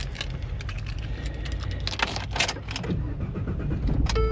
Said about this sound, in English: Oh, that new engine runs good.